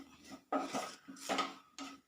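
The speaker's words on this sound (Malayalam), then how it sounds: "ഇതൊന്ന് ഇളക്കി കൊടുക്കാം." A spoon stirs chili powder through a pan for a Kerala potato curry, scraping and clinking against the metal in three or four distinct strokes with short quiet gaps, heard up close.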